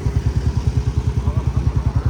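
A large car engine idles close by at a service station with a rapid, regular low thumping pulse, steady and loud throughout the short clip.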